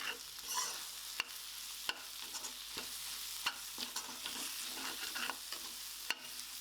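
Egg and masala fry in a pan for egg pulao while a utensil stirs and scrapes through them, with a faint steady sizzle and soft irregular scraping clicks throughout.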